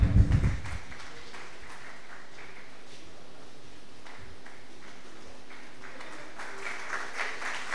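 Audience applause at a Kathakali jubilee programme in Tripunithura, a steady wash of many hands clapping after an opening burst, fairly distant and moderately loud, continuing throughout with a slight swell near the end.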